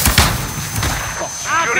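Heavy, booming gunfire fills a hardcore match of Call of Duty, dense overlapping shots and blasts running continuously at close range.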